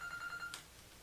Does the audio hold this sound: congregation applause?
no